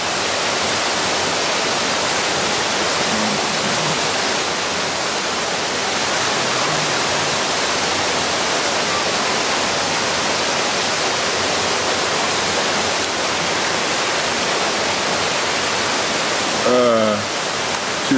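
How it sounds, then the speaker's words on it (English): Steady broadband roar of a waterfall behind a hillside viewpoint, loud and continuous for the whole stretch, with faint voices briefly near the end. "And waterfall behind us."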